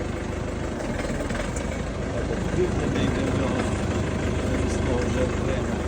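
A Bulat RF 404R PRO mini tractor's engine runs with its hydraulics in use, a steady, fairly close low rumble that holds even and continuous throughout with no speech.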